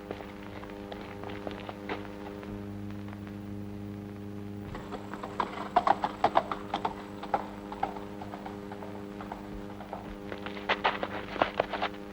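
Horse hooves clip-clop on a road in a 1949 Hindi action film scene, a run of moderately loud, irregular hoofbeats that picks up after a quiet stretch of steady background hum, with no talking.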